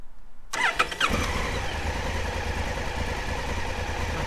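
A Honda Africa Twin CRF1000L motorcycle fires up with a single press of the start button, a brief cranking whir followed by a steady, loud, close idle rumble that continues to the end.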